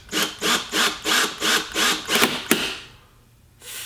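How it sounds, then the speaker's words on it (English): A hand drill bites into a plexiglass sheet in a series of about seven rhythmic gritty bursts, close and fairly loud, ending in a sharp crack before a quiet pause. "I then attempted to drill some holes in the plexiglass"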